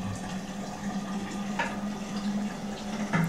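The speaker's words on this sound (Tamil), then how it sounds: "ஃப்ரிட்ஜில் ஸ்டோர் பண்ணுற பாட்டில்ஸ் எல்லாமே தண்ணி பிடிச்சி வச்சுட்டு" Tap water runs steadily into fridge bottles in a home kitchen, producing a continuous close, gurgling fill with a faint knock or two.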